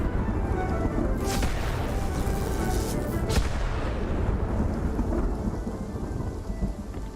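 Inside a farming video game, a thunderstorm pours steady heavy rain while thunder cracks sharply a couple of times and then rumbles, all loud and continuous with no talking.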